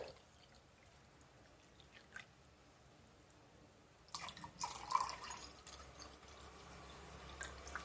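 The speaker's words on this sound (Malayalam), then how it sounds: "ഗ്ലാസ്സിലേക്ക് നമുക്ക് വെള്ളം ഒഴിക്കാം." Room-temperature water is poured into a glass while making homemade naruneendi sarbath, starting faintly with a few drips and then swelling into a louder, splashy pour in the second half, close and with no talk.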